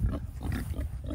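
A KuneKune sow grunts close by in a quick series of low, rhythmic snorts lasting about a second.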